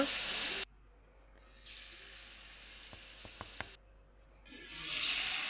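Potatoes coated in masala fry in hot oil in a pan, giving a steady close sizzle with a few sharp crackles and louder hissing bursts at the start and end.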